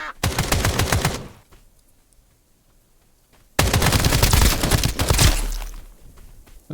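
Rapid automatic gunfire from the video game Escape from Duckov rattles out in two loud, sustained bursts, separated by a few seconds of near silence.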